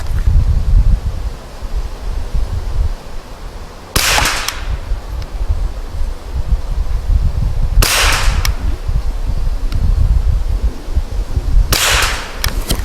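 Three sharp, well-spaced shots ring out from a 1972 Glenfield Model 60 .22 rifle firing CCI standard velocity rounds outdoors, each a crisp crack over a background of wind and rustling.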